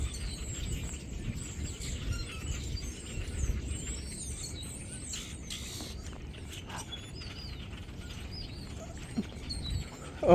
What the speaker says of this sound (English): Those birds are freaking out